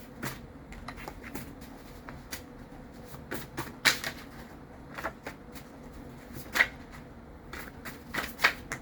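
Tarot cards being riffled and shuffled in quick bursts, crisp flutters and taps close by with short pauses between, no talking.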